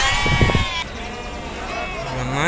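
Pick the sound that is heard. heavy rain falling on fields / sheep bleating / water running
sheep bleating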